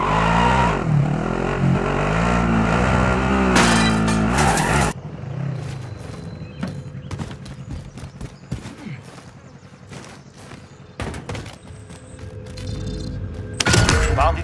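Car driving in Call of Duty Warzone: a loud, steady engine roar for about five seconds, then rattling, clattering and gunfire-like bursts over a lower rumble, with the engine surging again at the end.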